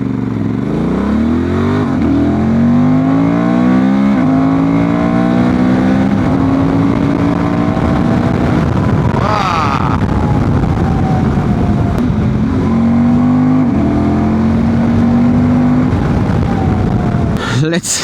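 A Transalp 750 motorcycle with a remapped ECU accelerates hard through repeated rising engine pulls and gear changes, loud and close, as the rear wheel spins, with a rider talking over the engine and wind.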